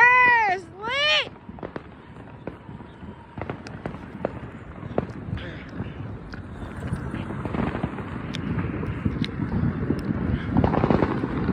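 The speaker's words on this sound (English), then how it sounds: "There's fireworks everywhere." Fourth of July fireworks go off all around, opening with whistling rockets, then a dense run of near and distant bangs and crackles that builds toward the end, with voices mixed in.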